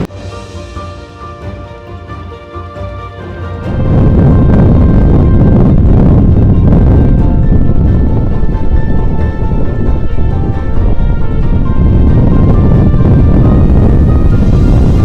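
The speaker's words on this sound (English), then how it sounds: "This wind is absolutely brutal." Strong wind roaring across an exposed New Zealand mountain top during a cold-day hunt, starting as a lighter rush and then surging into a loud, steady, buffeting blast that batters the microphone for the rest of the stretch, with no voices.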